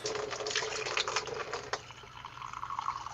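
Fresh water runs into a dirty paint rinse cup at a hobby desk, a steady close trickle and splash that thins to a lighter pour partway through, with no talking.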